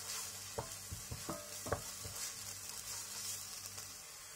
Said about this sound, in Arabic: وهبدا اشوح اهو البصله بتاعتي ونشوحها